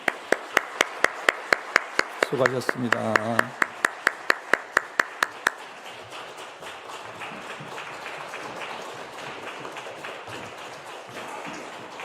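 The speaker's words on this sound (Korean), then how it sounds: "다시 한번 우리 박수하겠습니다" A church congregation gathered for a family dawn prayer service claps in a rhythmic run of sharp, even beats, then breaks into looser, softer applause that fades. A voice speaks briefly early on.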